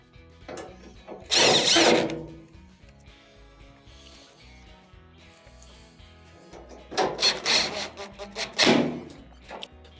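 A power driver runs screws back into a Maytag dryer panel in two separate bursts of whirring and grinding, with quiet handling noises between them.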